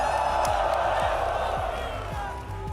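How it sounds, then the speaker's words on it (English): An esports arena crowd in Hong Kong cheers for FURIA at a BLAST Rivals Counter-Strike semi-final, a loud, dense roar with rhythmic chanting, heard close and continuous throughout. "Oh, I'm hearing some Let's Go FURIA in the crowd already."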